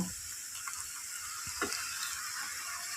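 Carrot halwa simmering in a pan after a cup of milk is added, giving a steady close bubbling sizzle with a few soft stirring scrapes, no voices.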